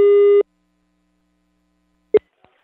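A telephone line tone sounds for a fraction of a second, loud and steady, then cuts off into silence, followed by a short click and a faint tap.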